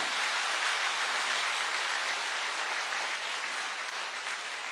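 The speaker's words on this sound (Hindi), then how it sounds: "एक जोरदार तालियां होनी चाहिए संस्था के लिए।" A dense, even wash of hand claps from the audience at a health awareness program holds steady for several seconds, with no voices above it.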